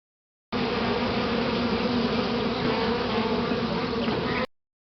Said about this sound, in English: Did you hear the bees were buzzing?